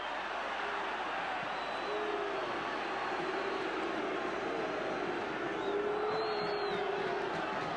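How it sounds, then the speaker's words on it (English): A rugby Test crowd at Dunedin in 1977, All Blacks against the British Lions, keeps up a steady, dense roar with wavering hoots rising through it, loud and continuous across the whole stretch, with no voices standing out. "The crowd hooting this time"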